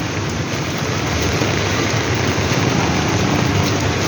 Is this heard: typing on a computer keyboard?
no